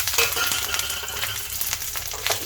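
Garlic, green chili and curry leaves fry in a pan as part of Sindhi seyal phulka made from leftover chapati, giving a steady close sizzle broken by light clicks and stirring scrapes.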